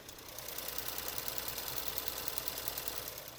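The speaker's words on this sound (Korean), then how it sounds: "엔진 소리랑 엔진룸 컨디션도 한번 보여드리려고 본네트 한번 열어봤는데요" A four-wheel-drive Lincoln SUV with about 40,000 km on it idles with the hood open in an underground parking garage. The engine gives a steady, quiet hum with a faint ticking texture, near and unbroken, with no talk.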